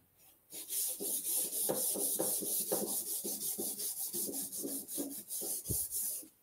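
A palm rubs back and forth across a wooden surface, hand-sanding it with a steady series of dry, raspy strokes, close and fairly quiet, with no talking.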